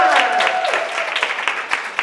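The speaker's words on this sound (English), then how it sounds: "let's give them a round of applause one more time" Audience applause fills a school hall at a Battle of the Books final, steady clapping running under a voice speaking over it.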